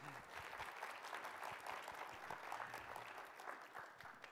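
A round of applause from the audience at a climate storytelling conference, steady dense clapping sustained for several seconds at moderate distance.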